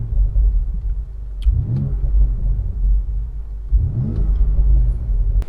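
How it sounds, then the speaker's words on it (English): A 2020 BMW X3 M's engine is blipped twice with short throttle stabs over a deep idle rumble, each rev rising and falling quickly, loud and close with no talking. "I'm gonna just stab the throttle here a little bit just so you can hear"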